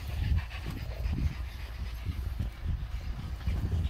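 A terrier pants rapidly and rhythmically up close during a ratting outing, short breathy huffs repeating throughout with nothing else prominent.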